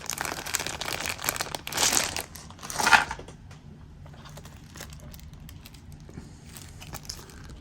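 A plastic bag packed with dice is handled up close, giving two short bursts of crinkling and rattling, then quieter rustling and faint clicks with no talk.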